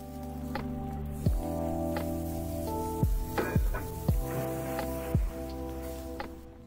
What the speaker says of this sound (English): go ahead and sear it in some olive oil in a preheated pan